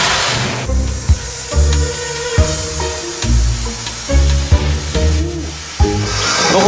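A steady, broad steam hiss fills the engine room of an 1893 steam tugboat, broken by rhythmic mechanical thumps and tonal machinery hum at fairly even intervals.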